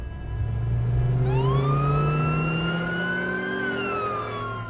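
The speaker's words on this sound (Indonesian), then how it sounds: "seorang petugas ambulan wanita bernama Cam, di mana ia terlihat sedang bersama rekannya yang sedang dalam perjalanan menuju lokasi kecelakaan mobil" An ambulance siren wails loud and near on the way to a car accident, its rising and falling tones sweeping upward over a low vehicle rumble with no talk.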